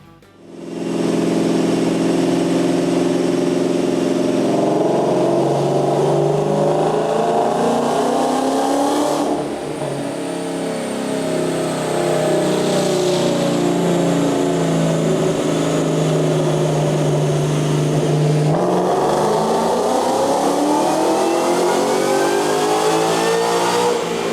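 A supercharged 2014 Mustang GT with a 6R80 automatic, strapped to a chassis dyno, revs loudly through long sweeping pulls, climbing through the gears with brief drops between shifts, close and alone.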